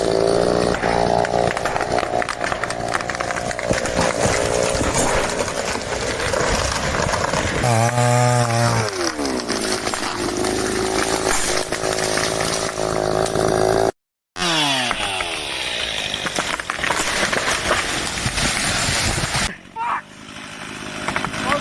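A Hud-son Patriot sawmill, fitted with an extra charging coil, runs its engine loud and close for the whole stretch. The rough engine drone surges and revs at points and cuts out once very briefly.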